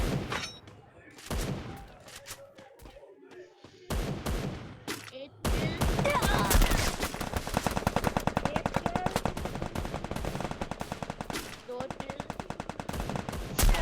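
Rapid bursts of sniper rifle fire on a video game training ground, sharp loud shots starting in short groups and then rattling steadily for several seconds, with brief game sounds between.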